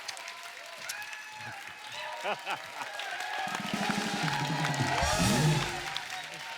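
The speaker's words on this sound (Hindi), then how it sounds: "एक बार जोरदार तालियां ऋतिक रोशन साहब के लिए" A studio audience applauds Hrithik Roshan on the Kapil Sharma comedy show set. The clapping builds into a loud, sustained wave with some cheering, mixed with talk throughout.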